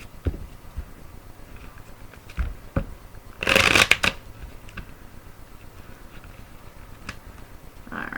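A deck of tarot cards is handled close up: scattered soft taps and flicks, then one loud riffling burst of shuffling, followed by more light card snaps in a quiet room.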